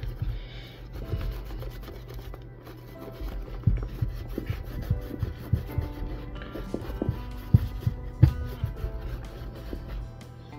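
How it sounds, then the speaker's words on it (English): A rag rubs cleaner onto a worn leather cowboy boot, making a close, dry scrubbing and rasping sound in uneven strokes with scattered sharper scuffs and taps. "rub it in here until you kind of dislodge some, and then rub it on the boot"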